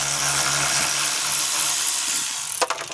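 A power tool whizzes bolts out of a car's shifter assembly during a drift car build, a close, loud whirring run that lasts about two and a half seconds and ends in a few sharp clicks.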